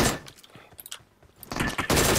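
Bursts of gunfire crack from behind the players in a PUBG Mobile match, sparse shots early then a loud, dense volley in the second half, with no talk.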